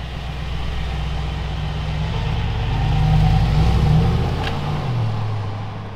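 Brabus G-Wagen engine with open exhaust giving a deep, steady grumble at close range, swelling slightly in the middle as revs rise, then settling back, with no talking over it.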